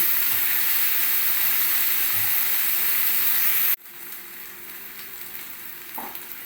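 Chopped green onions sauté in a pan with a loud, steady sizzle that cuts off abruptly partway through, followed by a much quieter, softer frying hiss.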